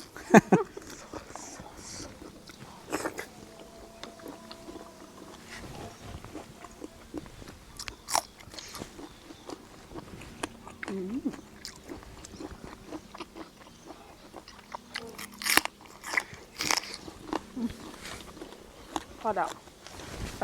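Crunchy chewing and biting while eating Thai food, including raw beef dishes and jaew dipping sauce, up close with repeated crisp crunches spread irregularly throughout, and someone talking at times.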